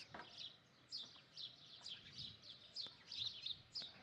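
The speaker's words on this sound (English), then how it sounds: "And the chippering, joyful mornings of the birds." Birds chirp in the morning near a temple of Isis in Egypt, with repeated short high tweets in quick bursts throughout. The calls are fairly faint and distant over a quiet background, with no speech.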